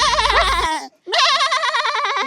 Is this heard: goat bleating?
yes